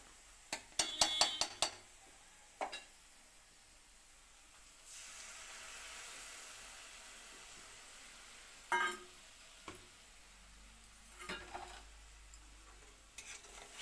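Ground spice paste with garlic and onion, for a boal fish tomato gravy, sizzles steadily in a pan. A spatula scrapes and taps against the pan in intermittent strokes, at a moderate volume with no talking.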